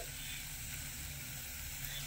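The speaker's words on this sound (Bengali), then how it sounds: "আর এদিকে ফোড়নটাও খুব সুন্দরভাবে ভাজা হয়ে গেছে" Whole spice tempering frying in hot oil, a steady close-up sizzle and hiss that holds evenly throughout.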